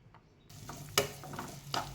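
Onions hit a pan and start sizzling, a soft frying hiss that swells after a quiet start, broken by a few sharp scraping clacks of stirring, with no one speaking.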